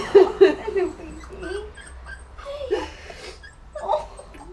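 A small Working Cocker Spaniel puppy whimpers and yips in high, thin cries, a couple of sharp ones at first, then softer whines scattered throughout, up close.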